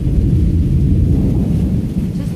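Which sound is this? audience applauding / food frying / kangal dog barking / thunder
thunder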